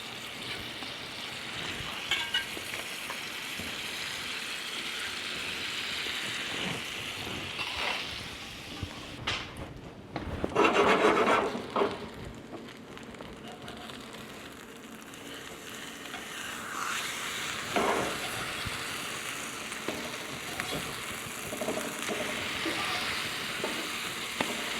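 Slices of custard-soaked French toast fry in melted butter in a pan, giving a steady close sizzle throughout with occasional stirring or shifting clatter and brief louder bursts near the middle.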